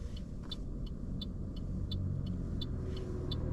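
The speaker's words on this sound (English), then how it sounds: "Wait for the car." A car passes on the road near a driving-lesson vehicle, giving a steady low rumble of tyres and engine throughout, with faint regular ticking above it.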